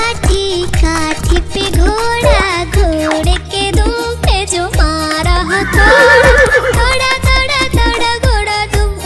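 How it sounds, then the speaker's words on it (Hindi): A horse neighs within a bouncy Hindi nursery rhyme, with a shrill whinny rising over steady clip-clop beats and cheerful music, loud and upfront. "दौड़ा दौड़ा दौड़ा घोड़ा"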